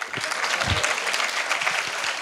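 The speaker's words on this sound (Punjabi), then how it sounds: "ਆ ਤਾਲੀਆਂ ਮਾਰੋ।" An audience at the Chandigarh Music & Film Festival claps together in a dense, steady round of applause, fairly close and continuous from start to finish with no voices over it.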